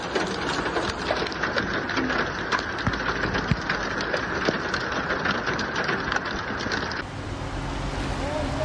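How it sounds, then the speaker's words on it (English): Heavy rain with hail pours down during a strong thunderstorm in Saudi Arabia, a dense, continuous hiss of drops pattering on hard surfaces nearby, steady and loud throughout. "bad weather was accompanied by hail and heavy rain."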